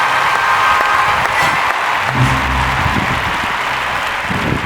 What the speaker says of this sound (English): One more round of applause for our Play with the Principal winners